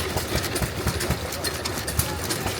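A 1912 Waterloo Boy 2.5 horsepower hit-and-miss gasoline engine pumps water at a county fair, giving a steady low chugging beat with irregular firing thumps over an outdoor crowd murmur.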